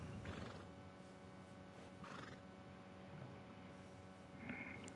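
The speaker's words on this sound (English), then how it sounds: "we got money for a good horse" A horse neighs a few times in the video game Red Dead Redemption 2, with hooves clip-clopping in between, set against a steady low hum and no speech.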